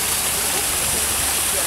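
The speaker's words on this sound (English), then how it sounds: "I love waterfalls." A waterfall in Normandale Japanese Gardens roars in a dense, continuous rush of falling water, loud and steady for the whole moment.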